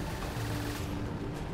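A missile explodes in the vehicle-building game Trailmakers, a dense, rumbling burst of blast noise that stays loud and rough for its whole short length, with no voices.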